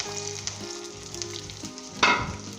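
Chopped onions frying and sizzling in hot oil in a pan while cooking boondi salan, a steady close crackle with a brief louder burst of sizzle midway, no talk.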